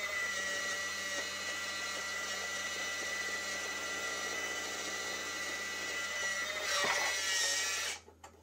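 A motorised photo-video turntable runs steadily with a constant whirring, whining motor hum, close and even, before a brief clatter and a sudden stop.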